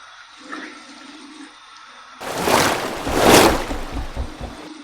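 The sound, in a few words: cold water rinse after shaving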